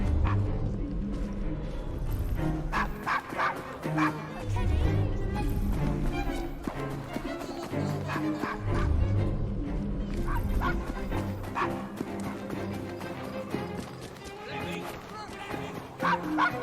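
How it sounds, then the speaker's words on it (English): A dog in Assassin's Creed Syndicate barks and yips repeatedly in short bursts, with some whimpering, while someone talks over the game audio. "Nice doggy"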